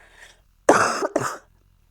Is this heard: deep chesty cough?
yes